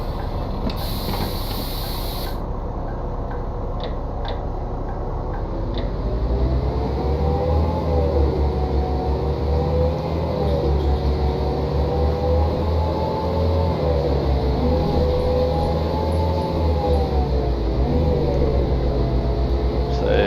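A bus engine in the Bus Simulator 16 video game gives a continuous, fairly loud mechanical drone whose pitch gently rises and falls as the vehicle drives, with a light rattling texture throughout.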